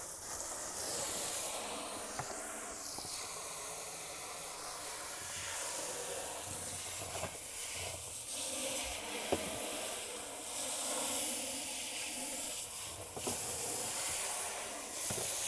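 A hose sprays water steadily over a bass boat during a rinse-down, a continuous hissing wash that swells and dips for the whole stretch, close by and with no one talking.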